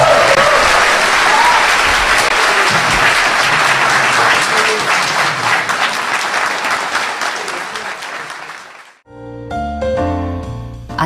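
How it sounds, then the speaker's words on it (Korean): A studio audience at a Korean talk show gives loud, sustained applause that gradually thins and fades out, followed by a short stretch of music. "박수 좀 쳐줘."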